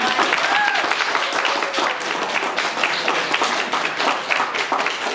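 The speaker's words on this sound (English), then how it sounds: "Big round of applause" Steady, loud applause from a crowd that keeps going throughout, with some voices faintly mixed in.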